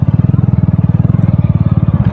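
A motorcycle engine runs while being ridden, its rapid, regular pulsing putter loud and close for the whole stretch with no pauses.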